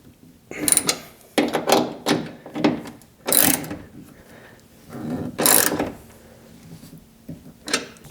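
Bike rack fittings being tightened down on a Tesla Cybertruck, a series of separate ratcheting clicks and mechanical clunks in short bursts with pauses between them, close and moderately loud.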